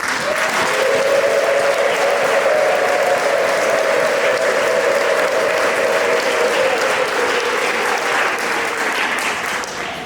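A church congregation applauds steadily for the full stretch, with a sustained high ululation riding over the clapping through most of it before easing near the end.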